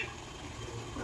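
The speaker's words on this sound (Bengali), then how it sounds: "শাকটাকেও একটু জল দিয়ে দিই" Water poured into a cooking pan of leafy greens with stalks, a steady, close watery rush that runs evenly for about a second with no talking.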